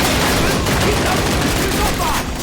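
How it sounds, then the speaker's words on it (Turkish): Dense, continuous gunfire in a Call of Duty match, rapid shots blurring into a steady loud barrage for the whole stretch, with a voice faintly mixed underneath. "Güzelim silah mermilerini de size harcıyoruz."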